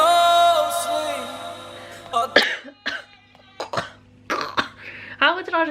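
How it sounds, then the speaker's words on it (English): A person coughs in several harsh bursts with a throat-clearing sound, close and loud, after a stretch of music with a steady tone and between short pauses. "How did I just start coughing or nothing?"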